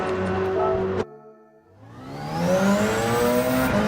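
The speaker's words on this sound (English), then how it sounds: "listen to this car" A Porsche race car engine in Gran Turismo 7 revs hard, cuts out abruptly, then climbs again through rising gears, its whine building steadily louder.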